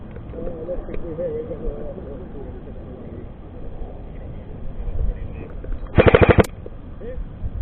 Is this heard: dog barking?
no